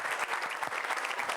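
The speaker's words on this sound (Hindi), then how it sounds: "तालियां बजाएं" A seated audience at a motivational talk breaks into brief, fairly soft applause, a dense patter of many hands clapping together with no voices over it.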